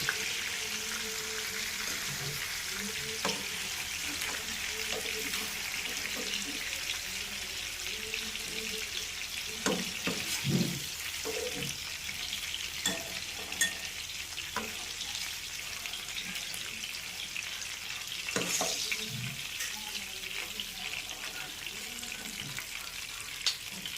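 Fish pieces fry in hot oil for a Kerala-style fish molee, giving a steady soft sizzle with occasional clinks and scrapes of a utensil in the pan.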